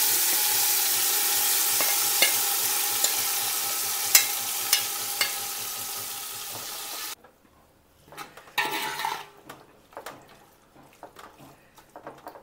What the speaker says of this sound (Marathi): भांडं चांगलं तापलेलं आहे आता. तर ह्या भाज्या आपण त्याच्यात सगळ्या